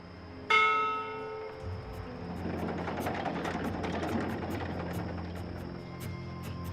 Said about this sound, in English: this is a ship's bell. They use this to signal the crew when a load of cargo's ready to be hoisted up